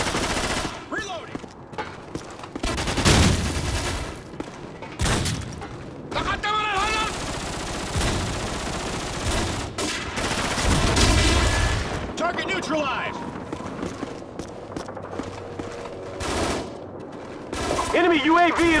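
Multiplayer firefights in Call of Duty Modern Warfare Reflex rattle with sustained machine-gun bursts and heavy booms, loud and close, broken by brief gaps, with in-game voices calling out over the battle.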